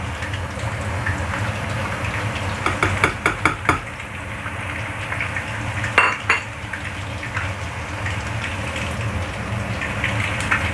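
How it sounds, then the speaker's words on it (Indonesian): Tomato and spring onion being stirred in a pan, with a steady frying hiss and a few quick clusters of sharp metal utensil clinks against the pan, close and clear. "Kita aduk."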